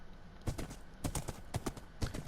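Horse hooves clip-clop in the game Minecraft, a soft rhythmic pattern of paired steps repeating about every half second, moderately quiet and alone.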